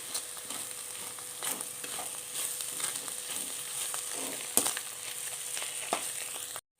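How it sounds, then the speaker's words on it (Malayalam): Vegetables and egg fry and are stirred together in a pan for a pulao, giving a quiet, steady sizzle broken by scattered spatula scrapes and one sharper knock. "വെജിറ്റബിളും ചേർത്ത് ഇളക്കി കൊടുക്കാം നന്നായിട്ട്"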